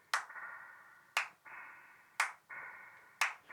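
A clap sample played four times at a steady pace in Ableton, each sharp snap followed by a lingering metallic reverb tail, dry and isolated with no talking.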